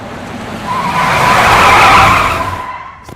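A car brakes hard on a road, its tires skidding in a loud, sustained screech that swells and fades over about three seconds before cutting off, with no talk over it.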